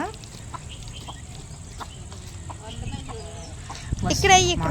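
Chickens on a farm clucking in short scattered calls under someone talking, with a louder burst of clucking near the end.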